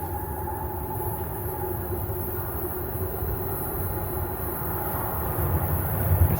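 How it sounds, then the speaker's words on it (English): A TTC subway train arrives at Highway 407 Station with a steady rolling rumble and rail hiss that builds slightly toward the end, heard alone without talk. "there's a train coming"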